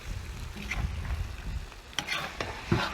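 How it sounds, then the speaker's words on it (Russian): Ojakhuri, Georgian fried potatoes with meat and tomatoes, stirred in a kazan over coals, with close scraping and clunking of the utensil against the pot over a soft sizzle. "Теперь все необходимо перемешать."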